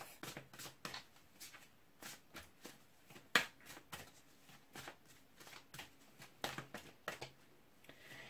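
Tarot cards shuffled by hand in quick riffling bursts of soft papery flicks and taps, close up and quiet, with no talking.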